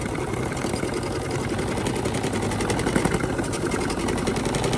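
A Brother SE1900 embroidery machine stitches a design onto a hat, giving a steady, loud mechanical whirr with a fast, even needle rhythm that runs without a break.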